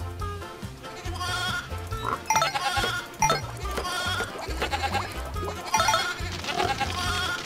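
Bleats from a sheep in the farm game Meine kleine Farm 4 come in short bursts, mixed into a continuous layer of looping game music.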